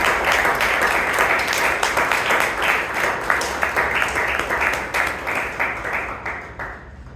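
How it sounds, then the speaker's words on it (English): Moderately loud applause from members at a Toastmasters club meeting, a steady patter of many hands that gradually fades as the clapping winds down. "Let's give Toastmaster Abhinava a round of applause."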